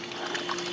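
Hot water streams from the wand of a SanRemo YOU espresso machine, a short, steady pouring gush with a faint pump hum underneath.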